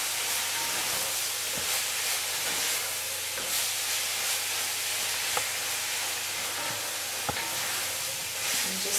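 Steady, dense sizzling of garlic, ginger and jalapenos frying in a hot pan over medium heat, with a few faint clicks and taps of a utensil.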